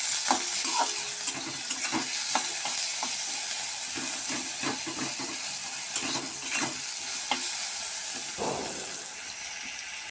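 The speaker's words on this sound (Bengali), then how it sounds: "এখানে পেঁয়াজগুলো ভাজার জন্য নুন দিয়ে দিলাম।" Salted onions frying in a wok give a steady, loud sizzle, broken by repeated scraping stirs and a brief surge of hiss near the end, with no voices.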